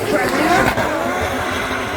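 A drift car screams around Mondello Park in Ireland during a Drift Masters round, its engine roaring loud and sustained with tire squeal, while a commentator talks excitedly over it.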